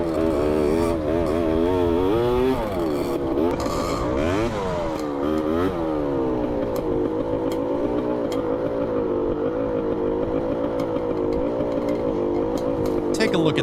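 Dirt bikes ride across a giant rock plateau in Sri Lanka, their engines droning and revving with shifting pitch and scraping and clattering over rock, loud and steady throughout, and a voice talks over them.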